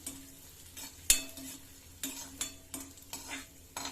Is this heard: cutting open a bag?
no